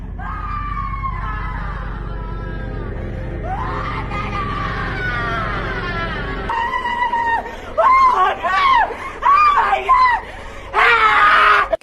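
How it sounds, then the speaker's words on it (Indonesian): A woman wails and cries loudly, long anguished sobbing cries, then sharper repeated screaming outbursts toward the end, close and intense. "Peter mendengar ibunya teriak dan menangis"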